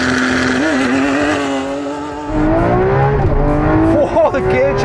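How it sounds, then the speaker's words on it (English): A Lamborghini Aventador with a single-clutch gearbox accelerates hard, its engine roaring loud and close and the pitch dropping sharply at a violent upshift before climbing again. "Whoa, the gear changes hard!"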